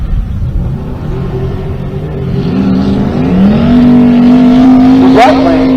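A Fox Mustang drag race car's engine rumbles loudly and close, its pitch climbing as it revs up, with a sharp burst near the end.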